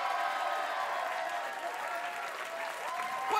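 A late-night television studio audience keeps up broad, even applause throughout, with some cheering mixed into the wash of clapping.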